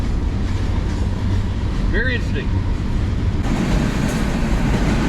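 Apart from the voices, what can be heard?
train passing fast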